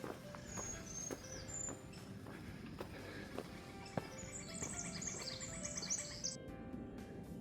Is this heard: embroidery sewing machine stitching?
no